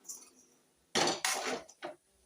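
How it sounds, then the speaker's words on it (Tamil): A utensil stirs potato fry in a metal pan, with three close scraping clatters in quick succession after a quiet start. "லாஸ்ட்டாக நல்லா ஒரு கிண்டி கிண்டி விட்டுறலாம்"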